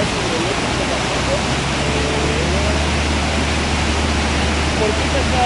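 A natural waterfall and river at Cascada del Molino near Valle de Bravo and Avándaro, Mexico, give a steady, loud broadband rush of falling water that runs unbroken throughout.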